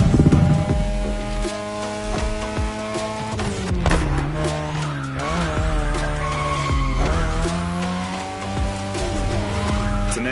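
A 3rd gen 2002 Mazda RX-7 with a rotary engine skids in The Crew Motorfest, tires squealing loudly and continuously while the engine drones and shifts pitch through the slide.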